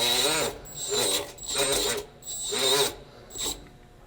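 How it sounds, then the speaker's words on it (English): A grinding tool buffs the inside of a tire before a patch is applied, producing four rough, rasping bursts of about half a second each, close and loud, with brief pauses between them. "Just another little grind."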